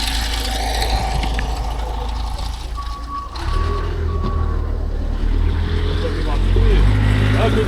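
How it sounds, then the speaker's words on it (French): A large Manitou telehandler arrives at a sailboat to lift out its small engine, a loud, nearby diesel rumble with a brief series of reversing beeps midway and a person talking over it. "Et voilà notre gros Manitou qui arrive pour enlever notre petit moteur."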